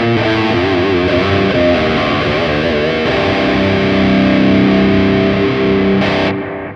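Sonicake Matribox guitar multi-effects pedal gives off a dense, distorted, chorus-tinged sustained tone as it powers on, loud and continuous, then cutting off abruptly at the end.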